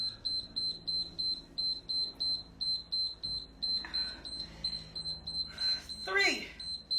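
Workout interval timer during a HIIT circuit session, beeping in a steady rapid series of short high tones, with a few bursts of louder movement noise and clatter near the end.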